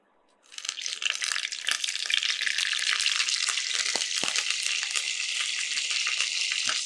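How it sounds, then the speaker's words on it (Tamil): Curry leaves hit hot oil in a pan with chana dal and urad dal. A sharp sizzle erupts suddenly, then holds as an even, close crackling hiss with faint stirring clicks. "இப்போ இந்த கருவேப்பிலையை சேர்த்தாச்சு"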